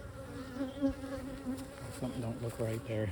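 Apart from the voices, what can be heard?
honey bees buzzing during hive inspection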